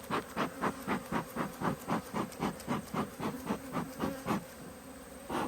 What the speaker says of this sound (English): So an enormous amount of bees in this bottom box as well.